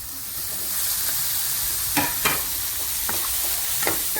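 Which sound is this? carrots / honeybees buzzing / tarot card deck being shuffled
carrots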